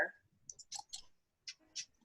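Several sharp computer mouse clicks in short bursts, close and fairly quiet, with faint murmuring in the background.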